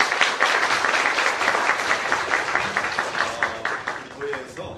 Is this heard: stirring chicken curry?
no